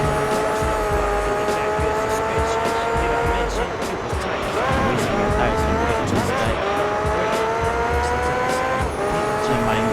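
Race car engines whine steadily in Gran Turismo 3, several tones rising and falling as cars corner, with intermittent tire squeal, loud and continuous throughout.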